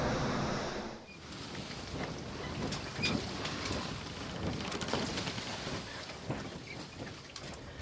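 Rain falling steadily outdoors on a boat at its mooring, a continuous broadband patter with no speech, a brief dip near the start, then an even wash of drops and scattered taps throughout.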